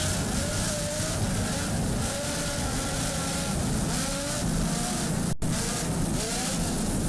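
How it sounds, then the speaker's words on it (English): An offshore racing powerboat with twin 920-horsepower Lamborghini engines roars at full speed during the Miami offshore grand prix, a loud, continuous, steady engine drone with rushing water and wind noise throughout. "Just listen to those Lamborghini power plants."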